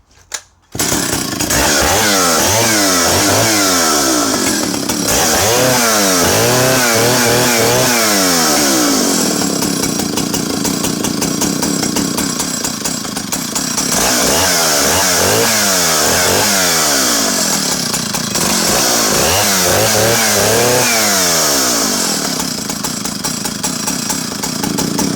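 Partner R12 90cc vintage Swedish chainsaw engine running loud and close, revving up and down in repeated waves of throttle with a steady idle between bursts, the exhaust note shifting as it is altered.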